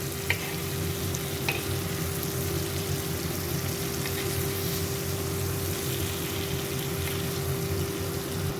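Masala-coated fish pieces fry in a pan after being turned, giving a steady, even sizzle throughout with a couple of faint clicks and no speech, Rayalaseema-style fish masala fry.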